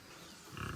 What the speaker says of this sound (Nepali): नाराङ्गे सुँगुर माउ रहेछ फेरि